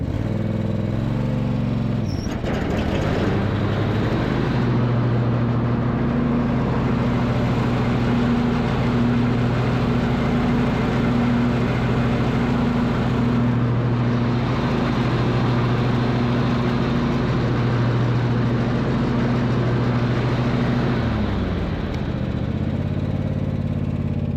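A zero-turn mower engine with freshly checked deck spindles and idlers, already running, steps up to a steady throttled-up drone that holds loud and even for about twenty seconds before dropping back down.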